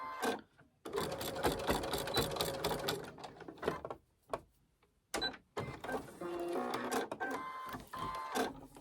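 Home sewing machine stitching fabric at close range, a rapid mechanical needle chatter running in two sustained bursts with a short pause and a few quiet clicks between, no talking.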